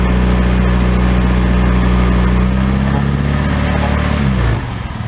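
Suzuki Burgman 125i scooter engine held at steady high revs, a loud continuous droning hum that drops off near the end as the throttle is released.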